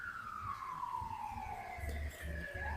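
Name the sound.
ambulance siren in the distance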